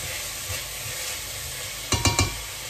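Onions and garlic sizzle quietly in a pot as a spoon stirs them, a soft steady frying hiss broken by three quick scraping knocks near the end.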